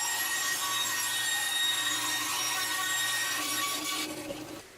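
A power saw cuts through a wooden subframe for a homemade circular saw table, giving a steady, close, bright whine of blade in wood that eases off at the end of the cut.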